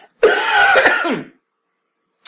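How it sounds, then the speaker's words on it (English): A single close, harsh cough, about a second long and loud, followed by silence and a faint short noise at the end. "I'm about to cough again, so forgive me"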